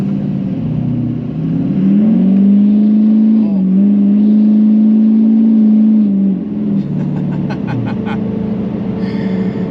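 Tuned car with a DSP5 and custom tune accelerating hard in a pull on the road, a loud droning engine note rising and holding from inside the cabin, then easing off with a brief fluttering burble at the end.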